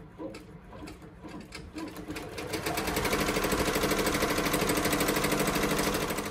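A Ricoma EM1010 embroidery machine stitching a placement line on vinyl, a fast steady mechanical chatter that builds slightly and then runs evenly and close with no talk.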